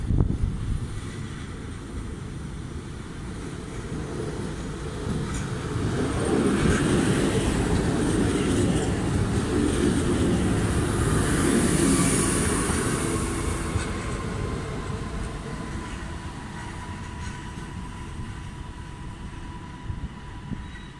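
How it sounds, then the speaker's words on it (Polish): A Regio passenger electric multiple unit, EN63H, arriving at Goleniów station on the Szczecin Główny–Nowogard service: a loud, steady rolling rumble with wheel and brake hiss that swells toward the middle and eases as it slows, with no talk. "Wjeżdża pociąg Regio relacji Szczecin Główny - Nowogard"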